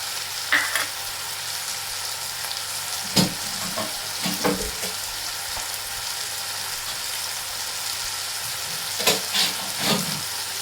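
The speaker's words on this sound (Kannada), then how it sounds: "ಎಲ್ಲ ಕೂಡ ಚೆನ್ನಾಗಿ ಫ್ರೈ ಆಗಿದೆ" Tomato chutney ingredients fry in a pan with a steady, close sizzle, broken by a few brief stirring scrapes and clatters.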